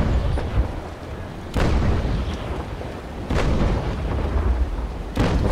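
Ship cannons firing in the naval combat game Naval Action, three heavy booming shots at roughly two-second intervals, each a loud sharp blast that rolls into rumble, over a steady background of wind and sea.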